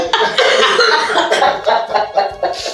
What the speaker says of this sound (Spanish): por eso hasta tos me entró